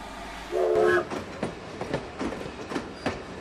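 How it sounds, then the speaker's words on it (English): A train running on rails, opening with a brief horn blast, then rhythmic clickety-clack of wheels over track joints as the cars roll past at moderate distance. "train."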